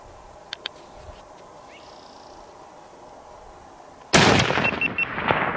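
A single loud rifle shot fired at a black bear during a hunt in Idaho, a sudden close blast after quiet outdoor ambience, with the report ringing out for a moment.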